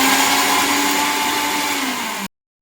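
A kitchen grinder whirs loudly as it grinds potato with capsules, a steady high motor whine that cuts off abruptly into silence.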